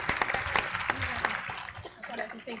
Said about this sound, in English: let's have a round of applause for all our class of 2020 this year